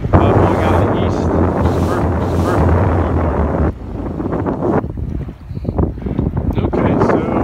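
Steady wind of about 12 to 14 knots from the east roars across the microphone aboard a Cape Dory 33 yacht under sail on the Chesapeake Bay, a loud continuous rush with water sounds and some talk.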